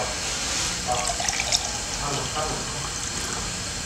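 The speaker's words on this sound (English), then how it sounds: "You need to fill it with water about a little more than halfway." Tap water pours into a mason jar, filling it a little more than halfway, a continuous bright splashing hiss at moderate loudness with slight gurgling variations throughout.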